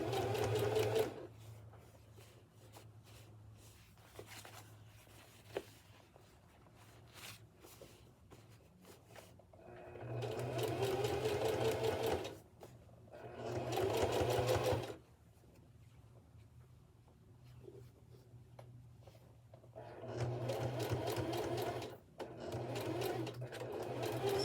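Sewing machine stitching a seam on elastic waist shorts, three bursts of rapid rhythmic mechanical clatter separated by quieter pauses, close and fairly faint.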